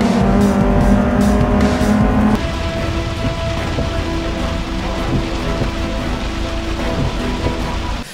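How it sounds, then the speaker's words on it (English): In the racing game Forza 6, a car engine drones under a dense patter of rain that turns duller partway through as the view shifts inside the car, with steady engine noise throughout and no voices. "Sound is again decently handled with the rain patter dulled on interior views or engine roars change."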